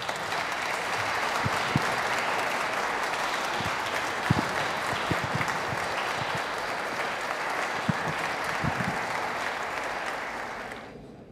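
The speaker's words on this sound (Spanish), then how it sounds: "Les damos un aplauso." A church wedding congregation applauds the newly married couple during Mass, sustained dense clapping that stays level for several seconds before dropping away abruptly at the end.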